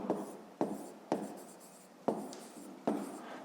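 Pen strokes scratching on paper during a 5th-grade math lesson, five distinct sharp onsets each fading into a brief scrape, close and quiet, with no speech.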